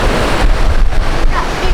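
Ocean waves at a beach wash in with a loud, continuous rush, mixed with wind buffeting the microphone.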